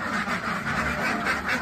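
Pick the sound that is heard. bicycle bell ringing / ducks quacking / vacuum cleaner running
ducks quacking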